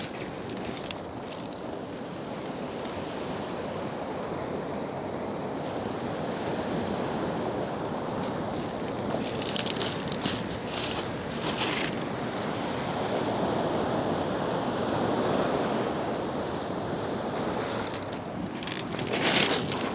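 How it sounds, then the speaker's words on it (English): Ocean swells break and wash through a bay after strong westerly winds, a continuous roar of surf with gusty wind buffeting, no talk. "we've had some pretty strong westerlies, which have pushed in some good swells round here"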